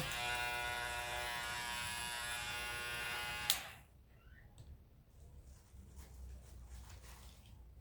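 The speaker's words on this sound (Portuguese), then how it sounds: "Caiu um barbeador ali, mas depois eu pego" An electric razor buzzes loudly and steadily at close range, then cuts off abruptly with a clattering knock as it falls, leaving faint, scattered noises and quiet room tone.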